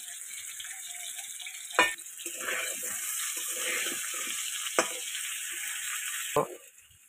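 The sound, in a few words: potatoes with turmeric and salt frying in mustard oil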